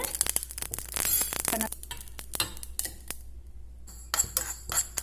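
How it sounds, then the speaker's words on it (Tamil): Mustard, cumin and fenugreek seeds dry roasting in a pan, with close clinks and scrapes of a metal spoon against the pan in irregular bursts and brief quiet gaps between them. "கொஞ்சம் செவந்து வாசம் வர வரைக்கும் வறுத்துக்கோங்க"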